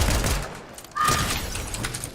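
Video game gunfire heard as a rapid burst of shots at the start, then a brief pause and a second sustained volley with mechanical clatter, fairly close and loud, with no talking.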